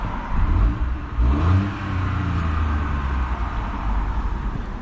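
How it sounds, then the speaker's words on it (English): A 2022 Mini Cooper Countryman engine catches and revs in two quick surges before settling into a steady, moderately loud idle hum, heard close and with no one speaking. "now I can start the vehicle up as normal."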